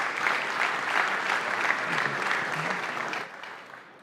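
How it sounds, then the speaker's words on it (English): A crowd applauds at a basketball league award ceremony as a star-lineup honoree is called to the stage, sustained loud clapping from many hands that fades away over the last second. "Round of applause."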